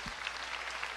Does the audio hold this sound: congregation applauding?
yes